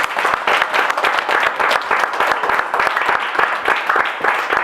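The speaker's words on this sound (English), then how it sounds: "Can we get a special round of applause for Toby Time?" Lively audience applause for the performer Toby Time, loud and close, with many distinct hand claps forming a brisk, rapid patter that stays strong and steady throughout.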